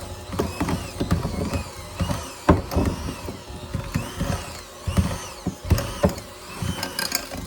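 An electric mixer churns snickerdoodle cake mix cookie dough in a bowl, giving a steady mechanical whir with repeated knocking and scraping bursts as the beaters work the thick dough, close and fairly loud with no talking.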